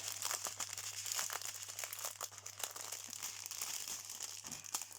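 A plastic packet of diamond painting rhinestones crinkles and crackles as it is opened, with close, faint, irregular rustling and small crunches.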